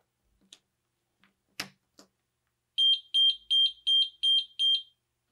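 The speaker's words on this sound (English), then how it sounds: "you'll hear the audible alarm." After a few faint clicks and taps, a workstation ground monitor's shrill electronic alarm sounds six rapid, evenly spaced beeps, loud and close.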